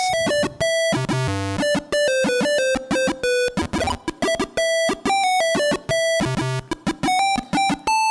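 A PC speaker with no sound card plays harsh, square-toned electronic beeps in a fast melody, notes jumping up and down in pitch with short gaps and a few buzzy low tones between.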